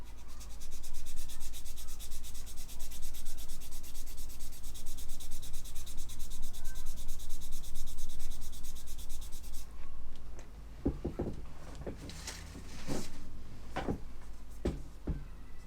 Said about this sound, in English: sanding with an actual sanding stick, not a flipping sponge, to remove them